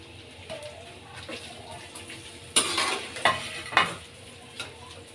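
Sliced onions dropped into hot oil in a pan, turned over medium flame, sizzling with a few sharp stirring and utensil clatters against the pan, under a steady low background.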